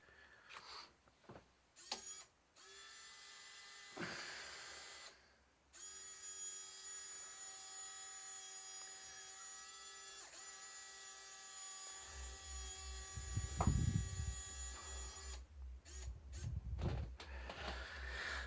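Small electric winch motor on a Traxxas Summit RC truck fitted with front and rear winches, giving a steady, thin whine that runs in long stretches with short pauses, joined late by a louder, rougher low buzz.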